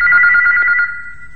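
A telephone rings with a loud, close electronic trill in one short burst that fades out, with no talking.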